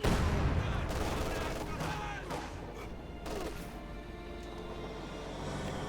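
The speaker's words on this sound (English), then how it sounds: "Quick rifle grenade here." Rifle grenade explosion and gunfire in the World War II strategy game Company of Heroes 2: a loud burst at the start followed by scattered shots and crashes fading into a dense battle din.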